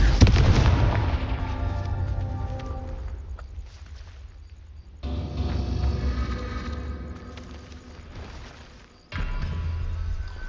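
A Confringo fire spell exploding in Hogwarts Legacy, a fantasy video game: a heavy boom opens, followed by a rumbling burn, with two more blasts hitting at regular intervals.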